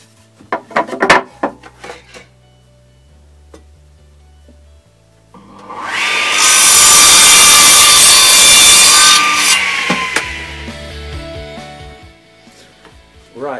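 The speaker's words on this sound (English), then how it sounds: "we're going to cut that on the crosscut saw" Crosscut saw slicing through a pine board: a few sharp knocks and tool sounds first, then a loud, sustained rasping whine for several seconds that tapers off as the cut finishes.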